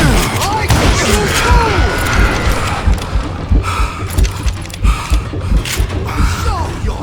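Gunshots and crashing impacts from the Call of Juarez Gunslinger video game, loud sharp reports scattered among clanking mechanical noises and effects, with voices shouting at points between the shots.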